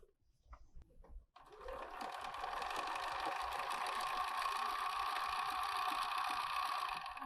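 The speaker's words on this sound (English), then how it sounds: "Let's sew that up" A sewing machine runs steadily, stitching up the side of a fabric drawstring bag. After a brief quiet start it gives a close, continuous whirring hum that holds for several seconds without pause.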